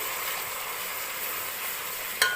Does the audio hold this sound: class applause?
no